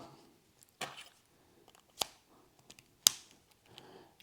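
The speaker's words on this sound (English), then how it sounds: "The new battery goes in, and we click it all back together." Plastic casing of a Holden car key fob snapping back together after a battery change: a few sharp, close clicks spaced about a second apart, loud and alone.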